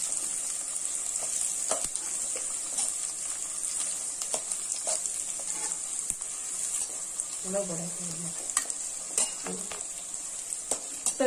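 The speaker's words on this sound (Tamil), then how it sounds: "வெங்காயம் வதங்கிறதுக்காக கொஞ்சமா நான் வந்து கல் உப்பு சேர்த்திருக்கேன்" Onions sautéing in a pan with a little rock salt for a creeper curry, giving a steady high-pitched frying hiss with occasional scraping stirs.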